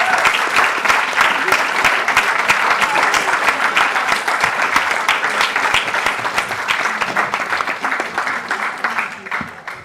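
Dense, sustained applause from an audience at the Pitch UK 2024 grand final as the overall winner is announced, loud and steady for the full length with many claps blending together, tapering slightly near the end.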